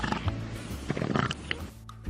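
Snorting, grunting elephant seal calls come in short irregular bursts, moderately loud and rough, with brief pauses between pulses.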